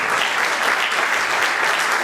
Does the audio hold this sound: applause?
yes